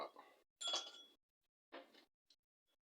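Ice cubes clink and rattle into a glass for Jameson Cold Brew whiskey and coffee, a few separate bright bursts of clatter, close and loud, with short quiet gaps and tiny ticks after.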